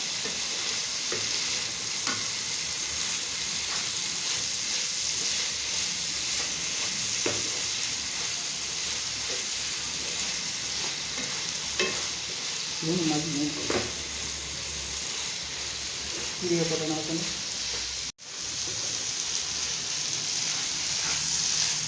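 Chop suey mixture sizzles steadily in a hot pan while it is stirred, with scraping strokes and occasional louder clatters over the constant frying hiss.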